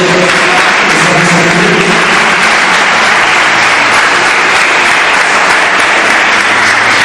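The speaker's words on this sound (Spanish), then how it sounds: "¿Me puede dar un aplauso al Señor Jesucristo?" A church congregation applauds during a worship service, a very loud, dense and sustained roar of many hands clapping together without pause.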